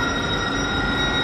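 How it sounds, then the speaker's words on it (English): A train gives off a steady, continuous rumble with a faint high squeal or hum on top, heard briefly and fairly loud. "Oh, I thought the train was leaving."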